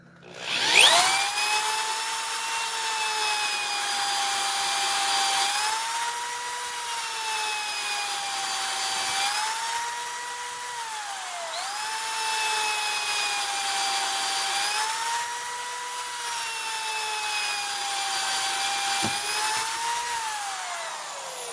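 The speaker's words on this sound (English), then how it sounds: "I was actually drilling through 2 full inches of material" Milwaukee Hole Dozer hole saw drilling through two inches of dry rough-cut wood, a loud, steady whining drill drone whose pitch dips and recovers repeatedly as the saw bogs and bites, with no talking.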